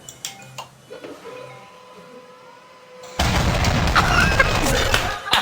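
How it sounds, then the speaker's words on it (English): A printer scares a cat: quiet ticks and small knocks give way to a sudden, loud mechanical rush of the printer feeding paper, which runs steadily to the end. "So clearly the printer won at the end."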